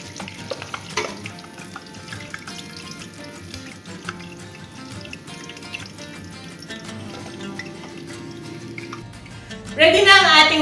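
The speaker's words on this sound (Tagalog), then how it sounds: "yung isa naman was cooked using the traditional method of deep frying" Lechon kawali pork belly deep-frying in hot oil makes a steady crackling bubble beneath background music, with a louder burst of sizzle near the end.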